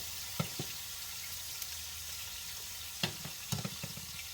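Quiet, steady sizzle of a pork chop frying in a pan, a soft continuous hiss with a few scattered clicks and taps from the utensils.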